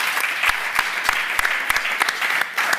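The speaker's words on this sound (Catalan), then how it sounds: "Un fort aplaudiment." Audience applause at a live show, a continuous dense rush of clapping punctuated by several louder, close individual claps, steady and fairly loud throughout.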